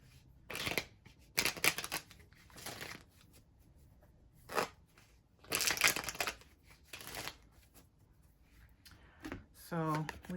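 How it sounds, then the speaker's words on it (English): A deck of tarot cards is shuffled up close in several quick, crisp riffling bursts separated by quiet pauses, and a voice is heard briefly at the end. "One good shuffle here."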